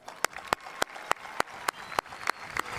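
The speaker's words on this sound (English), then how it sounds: "give yourself a round of applause for that" A small group claps in slow, evenly spaced single claps at a high school graduation ceremony, about ten sharp hits, fairly close, with faint background noise between them.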